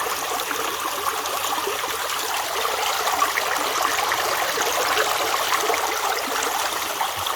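Water running steadily through a Dream Mat gold sluice outdoors, a continuous close rushing and trickling flow, even in level throughout with no talk.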